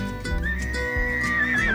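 A horse at a quiet riding farm and campsite in the Faroe Islands gives a loud, close, drawn-out whinny that rises and wavers over about two seconds.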